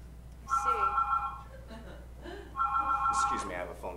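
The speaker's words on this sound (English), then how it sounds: "Excuse me, I have a phone call." A telephone rings in a home-shopping television studio, two long electronic ring bursts separated by a pause, while someone talks over and between them.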